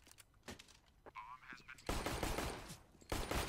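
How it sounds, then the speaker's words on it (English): Counter-Strike gunfire from a match on the Cobblestone map: quiet clicks and brief sounds, then two loud sustained bursts of close automatic fire. "I don't know how many bullets I need to shoot at him"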